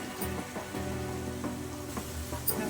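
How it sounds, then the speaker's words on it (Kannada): Onions sizzling and frying in ghee and oil with cinnamon, cloves and cardamom for Mysore mutton biryani, a steady close crackle with occasional stirring clicks. "ಎಣ್ಣೆಯಲ್ಲಿ ಚೆನ್ನಾಗಿ ಕೆಂಪು ಫ್ರೈ ಆಗಬೇಕು"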